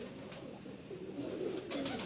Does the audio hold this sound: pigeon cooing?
yes